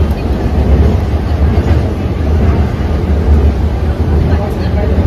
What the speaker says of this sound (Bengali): ফাইনালি আমরা মেট্রো পেয়েছি